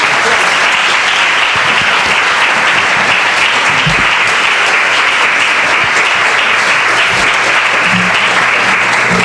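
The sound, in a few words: audience applause for a lecture speaker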